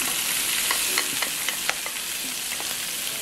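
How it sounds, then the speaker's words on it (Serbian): Pork chops fry in a pan with leftover marinade added, giving a bright, constant sizzle close up, broken by small clicks and scrapes as the meat is stirred and turned. "meso pržite jedno 7 minuta, svaki minut okrećajući na drugu stranu"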